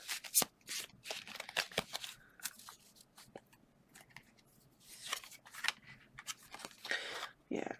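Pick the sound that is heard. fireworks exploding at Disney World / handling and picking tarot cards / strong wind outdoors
handling and picking tarot cards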